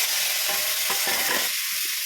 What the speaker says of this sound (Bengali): মাছ ভাজা তেলেই দিয়ে দিচ্ছি 5 ফোড়ন, তেজপাতা, সবজিটা ঢেলে দিচ্ছি